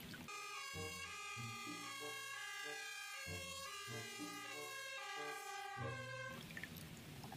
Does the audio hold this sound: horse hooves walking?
no